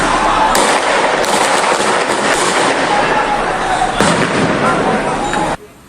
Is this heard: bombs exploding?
yes